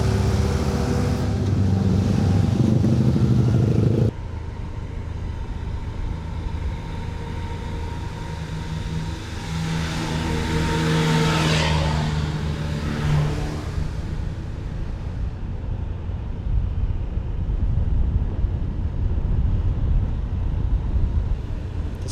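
A motor scooter labours uphill in rain on Bali, its engine droning steadily and loud up close, with the pitch shifting as it strains, along with wind and road noise for over twenty seconds.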